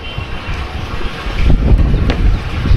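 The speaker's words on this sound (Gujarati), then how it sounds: "પવન સારો છે" Wind blows outdoors on a sunny day, a loud, low rumbling roar that swells and buffets heavily in gusts, growing stronger toward the end, with no talking.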